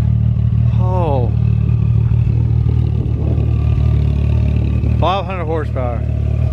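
Steady, loud engine drone of a 2021 Ford Mustang Mach 1 underway, with the engine note rising briefly as it revs, heard from inside the car while people talk over it.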